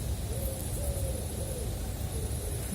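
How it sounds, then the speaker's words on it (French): An owl gives a series of repeated hoots on a late-August summer evening, moderately distant and steady over a constant low rumble and a faint high whine, with no voices. "c'est une chouette ou un hibou, ça"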